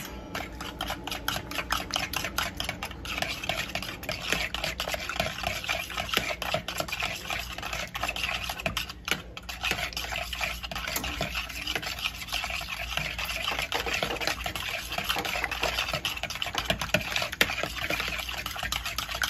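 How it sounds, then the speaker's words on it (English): Sugar stirred into okra and tomatoes in a pan, a steady close scraping and rubbing of spoon against the pan with soft wet sizzle underneath, continuous throughout with no talking. "And then we're gonna give that a little mix."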